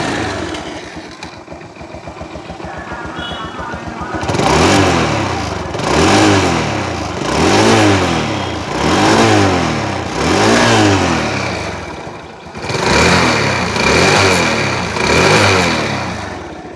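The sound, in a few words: vehicle engine running and revving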